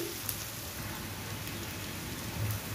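Spice paste sizzles in a pan while frying for a bottle gourd greens bhaji, a dense steady hiss of crackling oil running the whole time with no talk.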